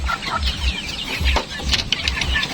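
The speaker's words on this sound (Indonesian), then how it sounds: "Jadi ini nih ayam-ayam kita nih." Farmyard chickens clucking close by in a steady run of short, busy clucks, with no talk over them.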